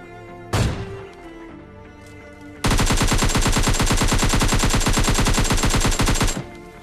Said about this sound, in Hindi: तभी एक बंदा फायर करता हुआ दिखता है